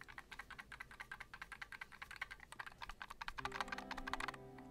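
A hamster-shaped computer mouse is shaken to check for rattling, giving a close run of quick, light plastic clicks and rattles. A steady tone comes in near the end.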